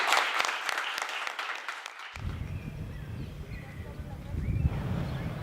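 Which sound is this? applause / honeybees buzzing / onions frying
applause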